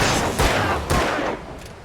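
Gunfire in Alan Wake, a few sharp shots in quick succession, close and loud over a brief span.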